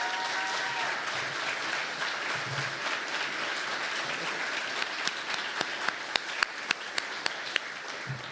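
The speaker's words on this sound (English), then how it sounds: "give a massive round of applause to the 9 teams that we've just heard tonight" An audience at a university startup accelerator demo night applauds the pitching teams, a steady, fairly distant wash of clapping with a few sharp, close individual claps standing out toward the end.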